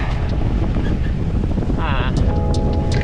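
Heavy wind buffeting and rain lash a reefed sailboat at sea during a squall, a loud, constant noisy roar with brief tonal creaks and whines near the end.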